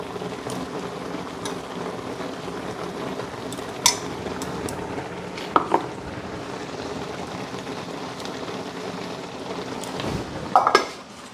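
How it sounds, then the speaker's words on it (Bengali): A spiced paste with salt and turmeric is stirred and fried in a pan, giving a continuous low frying hiss broken by scattered sharp scrapes and clinks of a spoon against metal; no talking. "এই যে মশলা এখন ভালো করে এটাকে কষামো"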